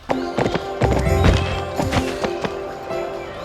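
In the PlayStation 2 game Barbie Horse Adventures, a horse gallops with loud, rhythmic clip-clop hoofbeats and lets out a whinny, with a game music tone running steadily underneath.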